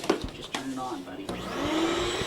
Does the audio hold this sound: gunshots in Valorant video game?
no